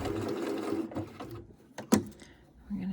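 A sewing machine stitches the fold of a reverse appliqué fabric piece in short bursts that stop and restart, running close and fairly loud with no voice over it.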